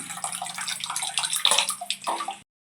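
Tamarind water is poured into a ginger curry roasted with coconut, a steady splashing, gurgling stream lasting about two seconds before stopping abruptly.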